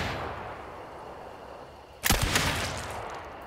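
A single loud, sharp Drilling Handcannon gunshot in Hunt: Showdown, fired at long range, cracks out of a quiet background and leaves a short, echoing tail.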